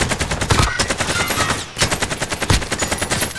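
Rapid automatic gunfire in Call of Duty Warzone on Rebirth Island, loud close bursts of quick rhythmic shots with a short gap near the middle before firing resumes, no voices over it.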